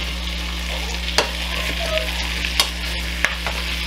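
A full pot of vegetables sweating for Spanish-style chicken soup, a steady soft sizzle with a low constant hum beneath and a few sharp spoon clicks against the pot as it's stirred, close, no speech.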